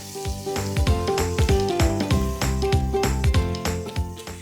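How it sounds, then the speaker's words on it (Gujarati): Tomato and capsicum strips sizzle and hiss in a hot pan while they are mixed for chilli potato, close and fairly loud. Music plays over the cooking sounds and there is no speech. "બધું સરસથી મિક્સ કરી લઈએ"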